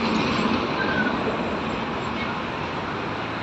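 Steady rumble and hiss of a train running through a station, continuous and fairly loud with no voices.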